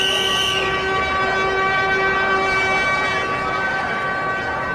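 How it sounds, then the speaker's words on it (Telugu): A train horn blows one long, steady, loud blast at a railway station as the train signals its departure, with a continuous rumble of rail noise beneath. "అరే, ట్రైన్ సిగ్నల్ ఇచ్చేసారు"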